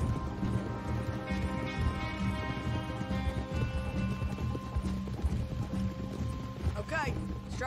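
Horse hooves clip-clop steadily in Red Dead Redemption II, a rhythmic trot under a busy game soundscape with a faint snort near the end.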